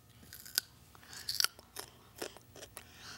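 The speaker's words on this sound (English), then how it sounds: "Dorothy, I eat crunchy vegetables to help take care of my teeth" Crunchy vegetables being bitten and chewed, giving sharp crisp crunches in irregular bursts, close and fairly quiet with no talking.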